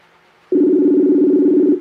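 A Facebook voice call ringing tone sounds as one loud, steady electronic tone lasting just over a second, starting abruptly after a quiet pause and then cutting off, with no talk.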